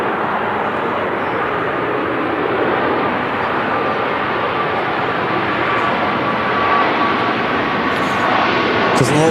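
A jet airliner landing at Manchester Airport roars loudly with heavy reverse thrust, a broad sustained rumble that holds steady and swells slightly toward the end, heard close and loud throughout.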